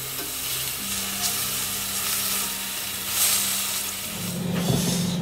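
Beef steak for tagliata searing in a pan, a steady close sizzle and frying hiss with a low tone running underneath, with no talking.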